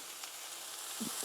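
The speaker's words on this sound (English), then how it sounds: "We're going to start adding in our burger patties. Hear that sizzle?" Steady loud sizzling of burger patties frying in a hot pan, with a couple of soft thuds near the end.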